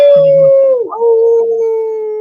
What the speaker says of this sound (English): You want to howl real quick?